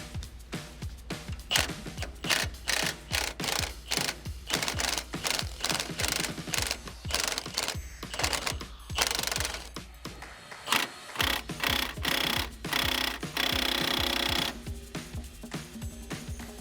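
Repeated ratcheting clicks from a hand ratchet working 18mm bolts on a Porsche 996 911 Carrera 3.4L engine during a coolant reservoir job, rapid close bursts of clicking separated by short pauses, with no voice.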